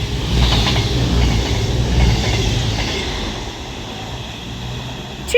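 A CrossCountry Class 221 Voyager diesel train passes through Longport on the West Coast Main Line, Manchester branch, a steady loud rumble with faint clicking wheels lasting throughout before cutting off abruptly.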